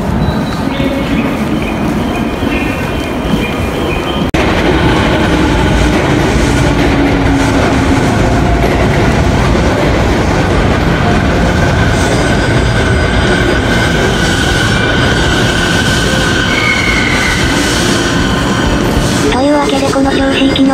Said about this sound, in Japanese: この銚子行きの電車に乗り込みます